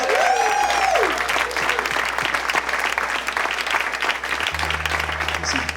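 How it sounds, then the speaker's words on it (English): Audience at a startup weekend finance pitch event applauding a team: loud, sustained clapping from a packed room, steady throughout with a low hum underneath. "So please give a big hand for OneCloud!"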